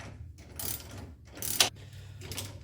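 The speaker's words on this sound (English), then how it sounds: "I'm just using an adjustable wrench just because it makes things much easier here." Adjustable wrench tightening suspension bolts while fitting a 2-inch lift kit on a Polaris RZR 570, heard as three short bursts of metallic ratcheting and clicking, the middle one loudest with a sharp clink.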